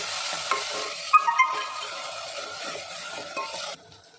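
Onions sautéing in a pan give a steady close sizzle with a few clinks and stirring scrapes, ending abruptly, no speech.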